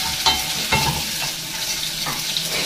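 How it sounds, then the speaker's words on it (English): Spaghetti frying in margarine for a Chinese-style rice dish, a constant close sizzle with rhythmic scraping stirs every half second or so, loud and with no talk. "I always love the smell of spaghetti when you're cooking it in margarine or in blue band"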